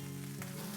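Broccolini and mushrooms sauté in a hot pan for ginger hoisin noodles, giving a brief, close, steady sizzle with no talking.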